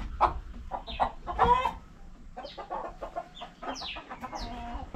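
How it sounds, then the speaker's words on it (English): Chickens cluck near and repeatedly in an African yard, with soft throaty clucks and a few higher squawks scattered across a few seconds and no talk. "There are some chicken that I need to move."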